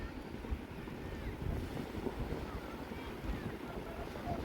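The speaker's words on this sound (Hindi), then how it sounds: "लेकिन यहाँ की लहरें ना बहुत ज़्यादा बड़ी थी" Waves wash onto a beach in South Goa, a steady rumbling surf mixed with wind buffeting the microphone, with faint talk underneath.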